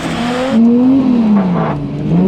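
A Nissan S15 fitted with a 2JZ engine drifting, its engine note climbing and sagging in strong, wavering revs that stay loud and close, with no voices over it.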